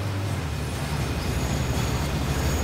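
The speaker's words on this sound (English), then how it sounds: "That's a train." A train rumbles past steadily in a rail video game, a continuous dense low roar with grinding rail noise that stays loud and even for the whole stretch, with no talk over it.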